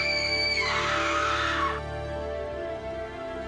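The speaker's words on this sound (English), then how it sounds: "Mabel screams." A woman's loud, sustained scream during a fantasy tabletop role-play story, rising sharply, holding for about a second, then cutting off into a low, rumbling ambient drone.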